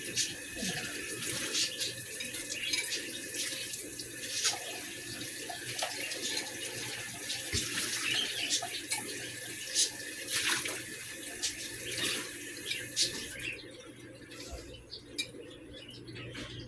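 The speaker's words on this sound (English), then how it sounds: "Wash out my mixing cup." Tap water runs steadily into a sink while a mixing cup is rinsed out in a home kitchen, a continuous splashing stream that cuts off near the end.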